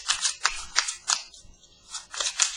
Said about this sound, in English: I'm shuffling for the weekend